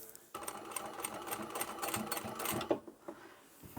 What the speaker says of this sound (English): pop the presser foot down and start sewing